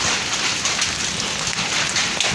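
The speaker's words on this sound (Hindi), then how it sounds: "ये दोस्त बारिश स्टार्ट हो गई है, भांडे के साथ ओले वृष्टि पड़ने लगे हैं" Rain mixed with hailstones falls in a hill village, a dense, steady, loud patter with scattered sharper taps throughout, and no voices.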